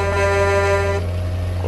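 Horn of a Volvo VM 330 truck in the Euro Truck Simulator 2 video game, one steady sustained blast lasting about a second over a constant engine drone.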